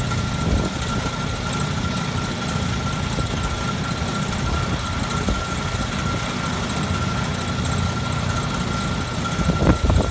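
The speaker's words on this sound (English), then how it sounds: "I don't think a gas pump's supposed to sound like that." A fuel pump runs while refueling an old pickup truck at a gas station, giving off a loud, steady mechanical drone with a vibrating hum that holds constant from start to finish, with no voices.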